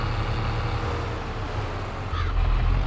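Loud tractor engine labouring across a farm field, a steady heavy low rumble throughout that swells louder near the end.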